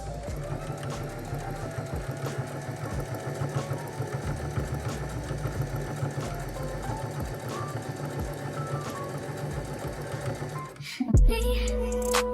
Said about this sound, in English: I'm gonna go ahead and stitch around this and do it for the other sleeve as well.